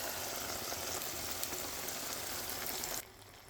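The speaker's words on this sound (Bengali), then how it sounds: "এটা আমি নেড়ে চেড়ে এখন লো ফ্লেমে দিয়ে ফ্রাই করে নেব" Cow brain fries in spiced oil with cumin and garam masala over a low flame, giving a soft, steady sizzle and crackle that is faint and close, then suddenly drops away near the end.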